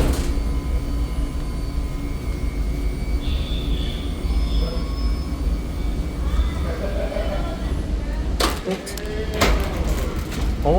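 A Gaviaria wheelchair lift at the CHLA bridge in Los Angeles runs with a steady mechanical rumble and whir, then sharp clunks and clicks near the end as it latches open.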